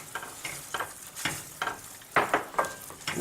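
Walnuts are stirred in a hot pan with a series of scraping, rattling strokes in an uneven rhythm. The sound is close and moderately loud, with no talk.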